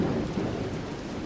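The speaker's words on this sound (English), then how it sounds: "And that was when the lightning bolt hit the dumpster." Thunder rumbling with steady rain, a low sustained roll from a lightning strike used as a story sound effect, fairly loud and continuous with no voices.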